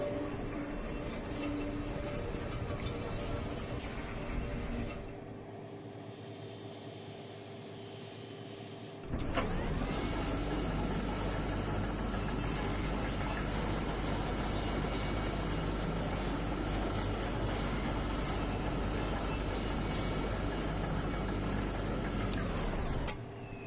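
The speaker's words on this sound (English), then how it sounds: "This tram isn't going any further." A tram rolls along damaged tracks in the video game Kentucky Route Zero, a steady broadband rumble and hiss that drops to a quieter hum midway, then swells back loud and constant for the rest of the clip, with no voices.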